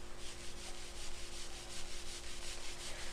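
Tissue paper rubs against a PVC pipe in a steady, continuous scratchy swish with a faint back-and-forth pulse, quiet and close, with no voices.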